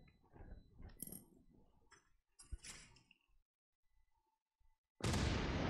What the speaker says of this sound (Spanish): Hace una buena explosión, ¿eh?